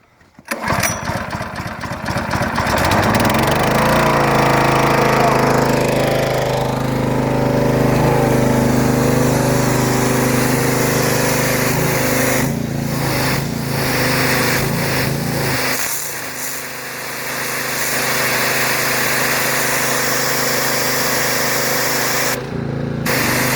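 A Honda-powered BE/Karcher pressure washer engine starts and runs loud and close with a steady drone, dips briefly in load partway through, then keeps running before cutting off.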